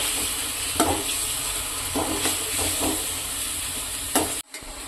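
Onions frying and being stirred for a fish curry, a steady sizzle running throughout with several scraping stirs of the spoon in the pan and a brief break near the end.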